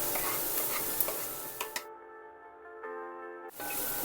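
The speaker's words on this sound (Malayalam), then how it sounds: "ഇതിൻ്റെ പച്ചപ്പൊന്ന് മാറുന്നവരെ നമുക്കിതൊന്ന് ഫ്രൈ ചെയ്തെടുക്കാം." Carrots, beans and cabbage stir-fry for desi-style vegetable chow mein, a close, bright sizzle with scraping stir strokes that drops out briefly midway, leaving a held musical tone, then hisses back in.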